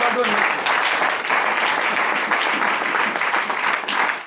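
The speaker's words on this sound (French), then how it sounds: "Acclamons très fort Jésus." A church congregation claps loudly during a Thursday morning French-language preaching service, sustained dense applause with voices mixed in, strong and close throughout.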